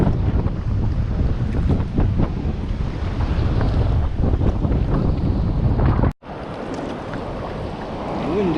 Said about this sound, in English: The wind is actually quite gusty,